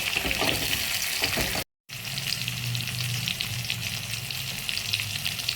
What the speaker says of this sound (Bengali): এবার আমি টমেটোটা ভেজে নেব হালকা ভালো করে, যাতে কাঁচা না থাকে